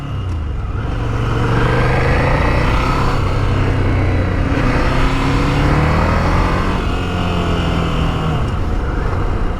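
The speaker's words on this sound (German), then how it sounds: "Die 2 Zylinder klingen auch in der Fahrt ordentlich." A steady, throaty two-cylinder Ducati Scrambler engine drones while riding, its pitch rising and falling slightly as it pulls along at a constant loud level.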